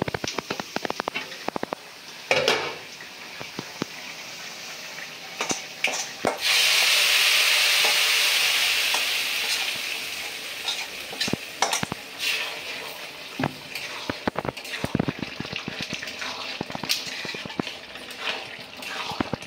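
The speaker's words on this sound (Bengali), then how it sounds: "পেঁয়াজ রসুনটা বাদামি করে ভাজা হয়ে গেছে, এখন আমি দিয়ে দিব" Loud burst of sizzling as a tempering of browned fried onion and garlic hits a hot breakfast dish, hissing strongly for a few seconds then fading, surrounded by stirring clinks and utensil knocks.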